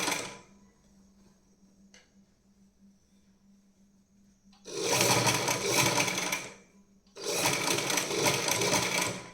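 A sewing machine stitches bias binding onto a neckline in two loud, sustained runs of rapid needle clatter, separated by a short pause and preceded by quiet room hum.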